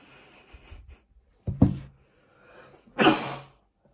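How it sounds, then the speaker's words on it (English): One sharp sneeze bursts out close by, preceded by a faint breathy intake and followed by a second brief noisy exhale, in an otherwise quiet room. "I sneezed."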